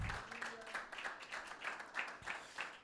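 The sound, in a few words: congregation clapping for Jesus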